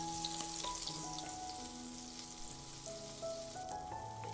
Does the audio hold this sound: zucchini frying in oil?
yes